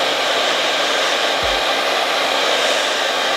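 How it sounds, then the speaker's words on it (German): A hair dryer on its cold setting blows a steady, close, loud rush of air for the whole stretch, with a brief low thump partway through and the airflow cutting off abruptly at the very end. "Ihr könnt es entweder so trocknen lassen oder einen Föhn benutzen, was ich jetzt mache"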